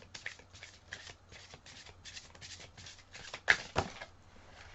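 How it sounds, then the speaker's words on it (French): Oracle cards are shuffled by hand in a quiet room, a rapid run of soft riffling flicks repeating in quick rhythm, ending with a couple of sharper slaps. "Se mélange très facilement les cartes."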